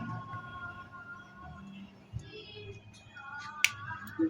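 A few sharp metallic snips of rusty high-tension wire being cut to expose the copper, spaced apart and growing crisper toward the end, over a low steady background hum.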